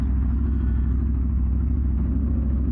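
Street traffic makes a steady, close, continuous low rumble of engines and tyres with no breaks and no voices.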